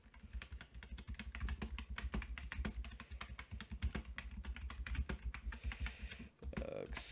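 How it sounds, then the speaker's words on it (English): Loud typing on a computer keyboard: a fast, uneven run of sharp, close clicks and clacks that carries on without pause, with a brief rustle near the end. "Excuse my loud typing."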